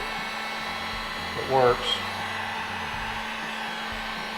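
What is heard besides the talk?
heat gun blowing hot air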